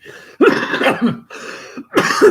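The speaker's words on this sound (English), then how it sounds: "now I got to start coughing" A person coughs close up in a few harsh, rasping bursts with brief pauses between them.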